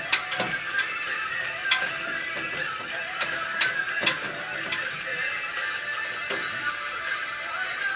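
Small clicking and ticking contacts from screws being driven snug to fasten a motherboard inside a computer case, a series of brief irregular taps over a steady faint hiss, no talking.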